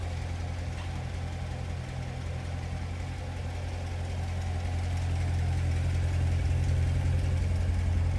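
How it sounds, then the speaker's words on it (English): A 2014 Chevrolet Corvette Z51 idles with an NPP Performance exhaust, giving a steady, deep, loping rumble that holds close and constant and swells slightly louder partway through, with no voices. "there's that NPP Performance exhaust just chugging away"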